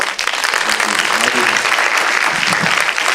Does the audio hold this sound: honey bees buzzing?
no